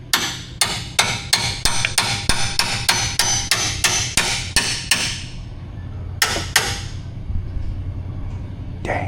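A chisel is struck repeatedly with a hammer while repairing a collision-damaged Jeep Compass AWD, giving a steady run of sharp, loud metallic blows, then a short pause and a few more strikes over a low shop rumble.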